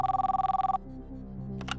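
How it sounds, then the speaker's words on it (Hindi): On a television quiz show, a telephone line rings with a rapid, warbling electronic trill, then the ring cuts off as the call connects, leaving a quiet line with a faint click. "टेरेंस लूसियन को फोन लगाया जाए"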